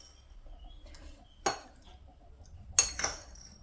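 Cloves drop from a teaspoon into glass canning jars for spiced pickled beets, two or three sharp, close clinks of metal on glass against an otherwise quiet kitchen.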